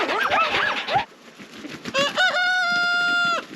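A rooster crows loudly and close by in a long, drawn-out call, after a burst of agitated clucking and squawking from chickens on a farm.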